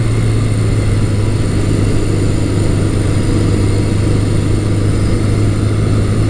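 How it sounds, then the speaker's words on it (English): A Yamaha XS1100 motorcycle engine runs steadily, a loud, close, continuous low drone with an even hum and no talk. "It's a very smooth-running bike, and it makes the XS1100 such a great touring bike."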